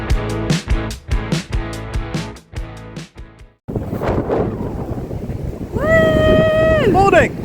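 A strong morning wind buffets the microphone in a loud, continuous roar by the sea after a ferry crossing, following bursts of voices, with a whistling cry near the end.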